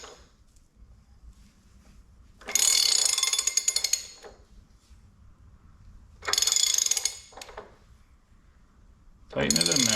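A ratchet with a 7/16-inch socket tightens a bolt while a Cat 3406E/C15 crankshaft seal is installed, giving three separate bursts of rapid metallic clicking with quiet pauses between them.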